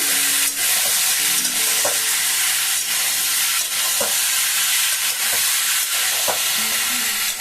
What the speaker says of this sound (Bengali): তারপরে এগুলোকে একটু ভালো করে মিশিয়ে নেব।